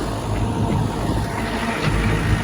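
Steady low engine rumble of a tractor puddling a flooded field, continuous and fairly close, with faint splashing texture and no voices.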